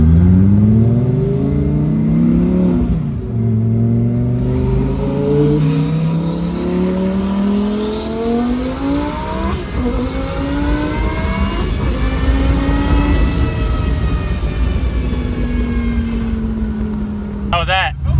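A turbocharged junkyard C5 Corvette accelerates hard from a 60 mph roll, its engine droning loudly and climbing in pitch through the gears, with a brief dip at each shift. Heavy wind and road noise sit underneath.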